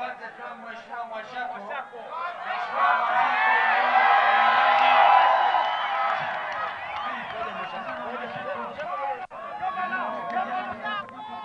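An outdoor political rally crowd claps, whoops and cheers for a speaker, the noise swelling to a loud peak midway and then settling into scattered cheers and chatter, with voices heard throughout.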